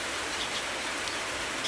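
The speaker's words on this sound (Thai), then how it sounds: "บรรยากาศฝนตกวันนี้พี่น้องเลย" Rain falls in a steady, dense hiss of drops on surfaces, even and constant throughout the short moment with no voices.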